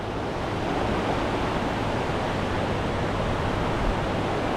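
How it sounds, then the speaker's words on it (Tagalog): A strong river current rushes under a bridge as a steady, loud broadband roar of flowing water, close to the microphone and unbroken for the whole stretch. "Kaso lang malakas ang agos."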